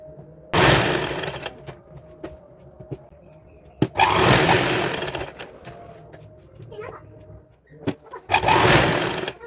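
An electric sewing machine stitches fabric for a designer kurti in three loud bursts of rapid whirring, with quieter pauses between them that carry a voice.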